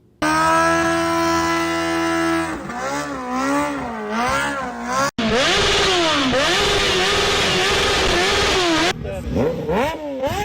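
A motorcycle engine revs hard again and again, its pitch sweeping up and down in loud, close bursts.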